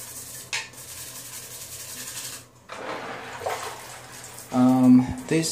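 Bulk-bought Lego bricks washed and rubbed by hand in water, with splashing and sloshing, soft scrubbing strokes, short pauses, and a burst of running water near the end.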